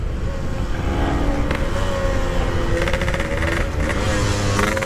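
Yamaha RX King motorcycle ridden fast in traffic, its engine droning loud and steady close by with rising and falling rev surges throughout and no talking.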